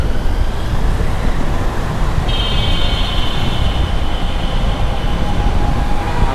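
Dhaka metro rail train passing overhead near Pallabi station, a steady broad rumble with passing street traffic and a faint high whine, no talking.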